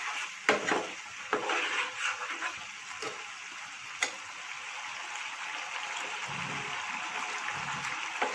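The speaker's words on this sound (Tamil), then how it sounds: "லாஸ்ட்டாக சாட் மசாலா போட்டு நல்லா மிக்ஸ் பண்ணிடுங்க" Chicken egg roll filling being stirred in a pan after chaat masala is added, with soft scraping, occasional spoon ticks and knocks against the pan over a faint background hiss, close by and without talking.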